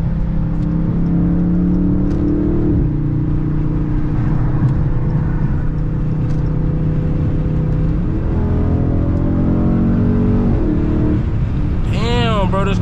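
A Dodge Charger or Challenger 392 with a 5.7 engine accelerates through heavy afternoon traffic, its loud engine note holding steady and then climbing through rising revs with audible shifts, close and continuous from start to finish.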